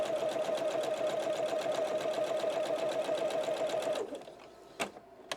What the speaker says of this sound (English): continue to sew around the other side.